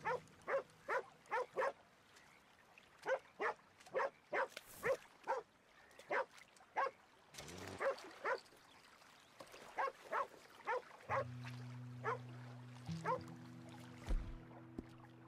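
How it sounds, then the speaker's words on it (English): A dog barks repeatedly in Red Dead Redemption 2, sharp regular barks in a steady run that pause briefly, then resume more loosely over a low droning background hum. "Now to deal with the annoying ass dog that was harassing me this entire time."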